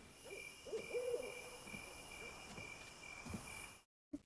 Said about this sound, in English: Sounded like the crickets.